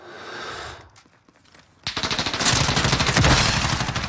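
Gunfire in the video game Call of Duty Modern Warfare: a quiet lull, then a loud burst of rapid automatic fire that continues to the end.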